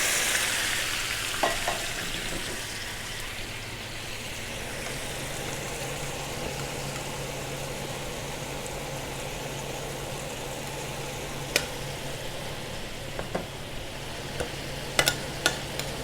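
White wine and vegetable stock bubble and sizzle hard in a hot pan of morels and other assorted mushrooms in a restaurant kitchen, a loud, steady frying hiss broken by a few sharp clinks near the end.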